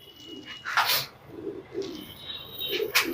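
Pet pigeons kept by a longtime fancier in Tonk give soft, low cooing calls in repeated short bursts, close by, with faint chirps and background noise around them.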